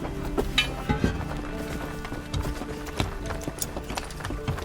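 Horse hooves clip-clop in Assassin's Creed Valhalla, a steady trot of hoofbeats over a busy game soundscape with faint clinks and ambient settlement noise.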